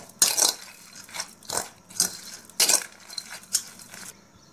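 A spoon mixes salt and red chili powder in a dish, giving a few separate scraping, clinking strokes against the bowl in an uneven rhythm, close and alone with no voices.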